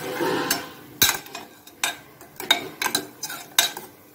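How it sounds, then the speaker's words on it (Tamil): Cooked snake gourd and lentils mashed in a pot, a run of sharp, irregular knocks and scrapes of a utensil against the vessel, close and fairly loud, with no talking. "இப்போ இதை நீங்கள் ஒரு கடை கடைஞ்சி விட்ருங்க."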